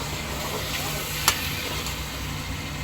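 Soft sizzling and stirring of chicken being mixed in a pan for chicken biryani, a continuous low hiss with one sharp clink of a utensil.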